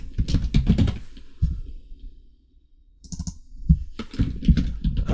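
Close bursts of rapid keystrokes on a computer keyboard while entering C# code for a Unity game project, with a quiet pause between clusters of clattering, clicky typing.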